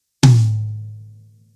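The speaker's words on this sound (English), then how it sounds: "We have a rack tom, which is our smaller toms at the top" One hit on a small rack tom at the top of a drum kit, a resonant pitched thud that sustains and fades over about a second, alone.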